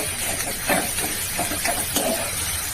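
Spinach stalks (palong peti) fry in a pan with a loud, steady sizzle and hiss, broken by occasional stirring scrapes.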